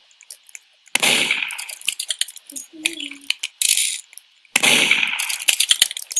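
Sharp gunshot bursts from a Roblox Murder Mystery 2 match, loud and close, with clattering rapid cracks in two main clusters separated by brief quieter gaps.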